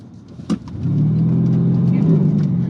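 An armored 2012 Mercedes S 63 AMG pulls away from a standstill, its engine rising into a loud, deep, steady roar after a brief click and a short spoken word at the start.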